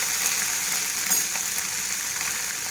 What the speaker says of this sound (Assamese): জলকীয়াকেইটাও ভাজিব লাগিব, তেতিয়া ভাল হ'ব।